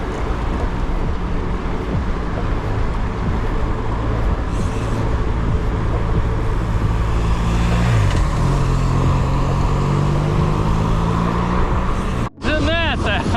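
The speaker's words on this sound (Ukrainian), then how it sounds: "затори починаються" Road traffic in a jam, heard from a bicycle: a continuous close rumble of car and diesel engines, with a vehicle's pitch sliding past partway through and a short dropout near the end.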